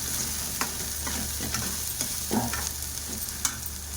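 Mushrooms with curry leaves frying in a pan, a constant close sizzle with intermittent spatula scrapes and taps as they are stirred.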